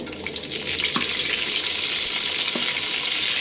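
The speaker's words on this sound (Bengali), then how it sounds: "এখন দিয়ে দেবো পেঁয়াজ কুচি" Chopped onion hitting hot oil in a pan with bay leaf, a loud, dense, continuous sizzle that swells at the start and holds steady, with faint stirring taps beneath.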